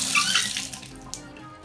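Water runs steadily from a bathroom tap, a broad continuous splashing hiss that is loud at first and eases slightly, with a couple of small clicks near the end.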